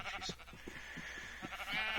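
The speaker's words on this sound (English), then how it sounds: "Here's her sheep." Sheep in the Minecraft Feed the Beast modpack bleating near a base, a close, wavering bleat sitting over a soft background hum.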